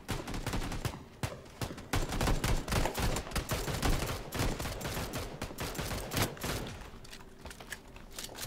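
Video game gunfire rattles in rapid volleys, loud and close, with short pauses between bursts and a brief lull near the end.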